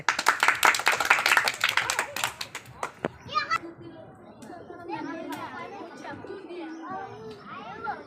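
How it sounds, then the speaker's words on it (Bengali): Children clap their hands in a quick, ragged burst outdoors during a village ball-tossing game, then the clapping fades into excited chatter and kids' voices. "তাহলে একটা হাততালি দে, জোরে একটা হাততালি দে।"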